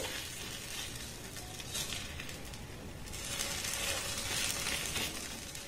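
A patishapta pancake fries in a pan, worked with two ladles while being rolled for pitha, giving a steady, moderately loud sizzle and crackle with brief stirring scrapes, and no talk.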